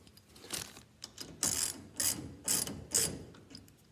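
A ratchet socket wrench tightens a fitting on a boat keel during boat building, giving several separate bursts of rapid clicking, close and fairly loud, with short pauses between strokes.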